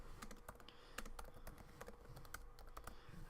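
Fingers type a command on a computer keyboard, a quick, irregular run of light, close key clicks with small pauses between bursts, heard alone and fairly faint.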